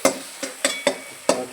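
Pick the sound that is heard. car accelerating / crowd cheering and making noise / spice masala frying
spice masala frying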